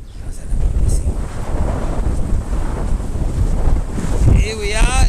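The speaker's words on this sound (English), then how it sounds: "It's really windy." Strong wind of 25 plus knots blasts steadily across the microphone, a loud continuous rush with gusty swells and a faint voice briefly underneath.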